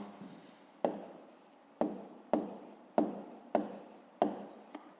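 Pen or pencil strokes while writing out a fifth-grade math solution, a series of about six sharp taps each followed by a short scratchy scrawl, close and fairly quiet, with no talk.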